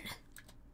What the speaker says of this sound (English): Did I hear waffle and then hear that kind of crunch?